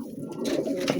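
Pigeons cooing in a loft of Faisalabadi birds, soft low throaty coos rolling close by over a dense murmur of the flock, with no talk.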